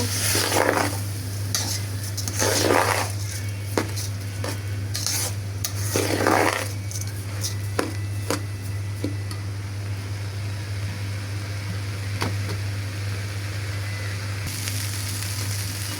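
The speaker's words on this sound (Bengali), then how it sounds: "তো আমি এটা ভালোভাবে নেড়ে চেড়ে ভেজে নিব" Food fries in a pan with a constant sizzle over a low steady hum, as a utensil scrapes and stirs in bursts, then the stirring thins to sparse clicks.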